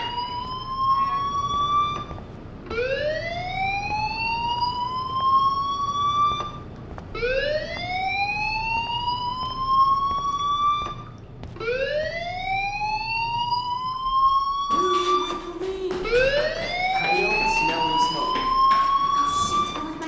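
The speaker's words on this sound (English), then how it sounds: "Hey, do you hear that fire alarm?" Fire alarm in the video game Life is Strange, a repeating rising electronic whoop that sweeps upward about every four seconds, loud and steady over a faint background hum, with a brief extra tone near the end.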